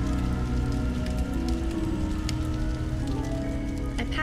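Rain falls in the video game Xing, with a soft steady patter of drops and scattered brighter splashes over a layered ambient musical backdrop, and no voices.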